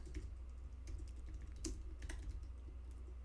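Typing on a computer keyboard while writing a short line of HTML code, heard as quick, light key clicks in an irregular patter over a steady low hum, close and fairly quiet.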